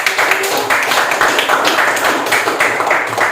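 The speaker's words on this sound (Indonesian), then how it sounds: "Tepuk tangan buat nomor 1." Students in a Hindu religious education classroom applaud group number 1 with loud, continuous clapping, dense and even from start to finish, with no talk over it.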